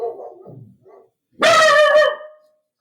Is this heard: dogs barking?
yes